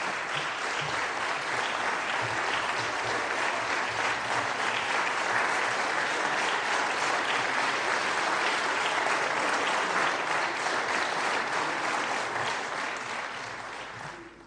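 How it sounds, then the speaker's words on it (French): Sustained applause fills the French Senate chamber after the vote adopting a resolution recognising the State of Palestine, a dense steady clapping that holds for over ten seconds before tapering off at the end. "On a vu des applaudissements, un peu de joie."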